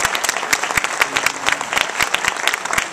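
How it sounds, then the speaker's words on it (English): A festival audience at a Latino film festival closing night applauds the filmmakers with brisk, crisp clapping, individual sharp claps standing out over a continuous round for a few seconds. "please give a round of applause to the filmmakers"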